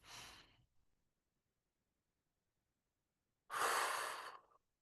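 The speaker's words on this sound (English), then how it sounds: "when you breathe out, I want your breathing out to be longer" Slow breathing exercise with long exhales: a short breath at the start, a long pause, then a loud, drawn-out exhale of about a second, close and alone.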